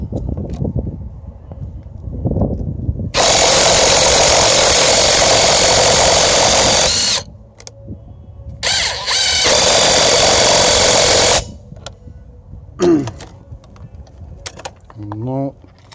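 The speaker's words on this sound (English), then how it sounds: "let's start with this Fake Makita impact wrench" A counterfeit Makita impact wrench fires off two loud, sustained hammering bursts of about four and three seconds. Low rustling and clunks of handling fill the gaps between them.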